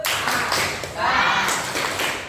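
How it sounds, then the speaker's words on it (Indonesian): A school class claps a salute clap together in a quick, dense burst of hand claps, fairly loud and close, with a brief pause partway through before the clapping resumes. "Oke, sip, kasih tepuk salut. Tepuk salut."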